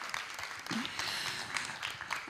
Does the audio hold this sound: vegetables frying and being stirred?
no